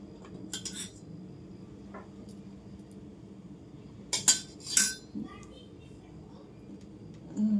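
A spoon stirs churmuri snack ingredients in a bowl, producing a few bright clinks and scrapes, one early and a cluster in the middle, over a quiet background with faint talk.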